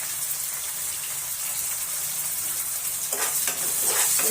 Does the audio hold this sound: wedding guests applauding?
no